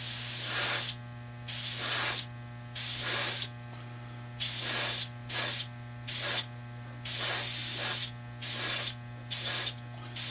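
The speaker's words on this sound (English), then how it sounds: "the technique that I use for spraying enamel" Enamel paint comes from a spray can in about ten short, even bursts of hissing spray, each separated by a brief pause, over a low steady hum.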